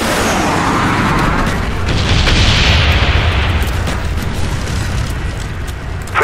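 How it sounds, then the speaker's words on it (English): Napalm strike explosions in the Call of Duty Black Ops video game, a heavy rolling roar of booms and fiery blasts that fills the scene loudly and continuously. "Friendly napalm strike on the way."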